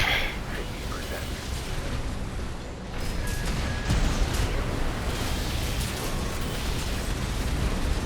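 In Armored Core 6, a linear rifle fires in heavy blasts over ongoing mech combat noise, with a sharp burst near the start and another loud surge partway through, all under constant rumbling.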